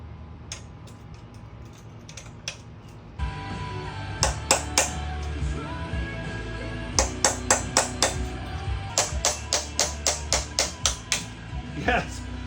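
A chisel being struck to turn a seized motor part during a teardown gives a string of sharp, ringing metallic taps, sparse at first, then quicker and steadier, close by in a quiet room.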